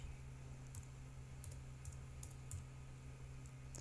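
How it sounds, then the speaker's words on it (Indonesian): Someone types on a computer keyboard, entering a localhost address into a web browser: a short run of separate, fairly faint key clicks with irregular spacing over a steady low hum, and no voices. "saya jalankan lewat browser dengan mengetikkan localhost seperti ini"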